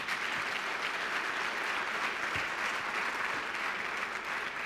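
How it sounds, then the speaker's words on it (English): A crowd applauds city council members at a State of the City address, a dense, steady wash of clapping from many hands that holds at an even level throughout, with no speech over it. "Let's give them all a round of applause"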